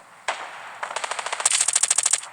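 Rapid bursts of video game automatic gunfire, sharp and loud, fired in quick rhythmic succession with a brief gap after the first shot.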